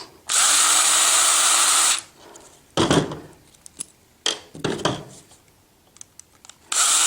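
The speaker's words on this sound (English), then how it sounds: "I'm going to use an automatic screwdriver to take some of this apart" An automatic screwdriver backs screws out of a mini chopper's carburetor: a loud sustained whir, then clattering taps and clicks of small metal parts, and a second whir starting at the end.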